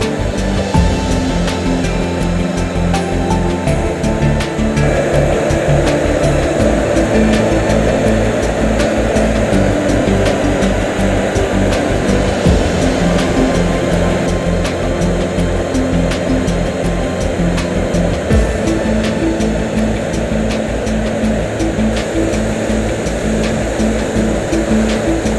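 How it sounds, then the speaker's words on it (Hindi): Two waterfalls pour together on the Madhyamaheshwar trek in the Himalayas, a steady, dense roar of rushing water that fills the scene continuously and loudly, with no voices. "दो वाटरफॉल एक साथ।"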